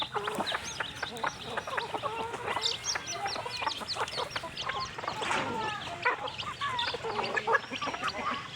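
Many chickens clucking and chattering at once, a busy overlapping flock of domestic chickens nearby, with some higher chirps from newly hatched chicks and occasional voices underneath.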